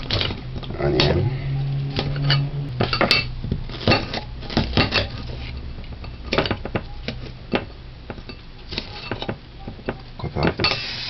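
A knife dices onion on a cutting board, making repeated sharp chopping taps in uneven bursts, close and fairly loud, with pots and dishes clattering and a voice talking at times.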